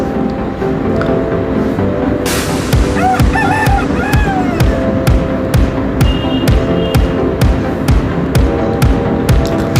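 A silkie rooster and hens cluck and call near a steady rhythmic mechanical throbbing, with short bird calls rising over the repeating thumps.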